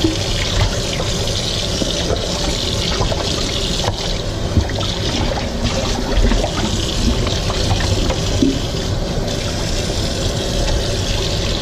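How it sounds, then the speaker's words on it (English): Cold tap water runs steadily over a slab of pork belly as it is rinsed before curing into bacon. The flow is close and constant, with light splashing and no voices. "Using cold water, I'm going to wash it here."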